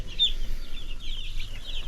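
A brooder full of about a hundred newly arrived meat-bird chicks gives off a continuous high, twittering chorus of cheeps, steady and fairly close, with no talking.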